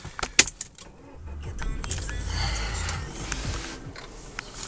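Keys jangle sharply near the start, then a Peugeot RCZ 1.6 THP petrol engine cranks and settles into a low, steady rumble heard from inside the cabin.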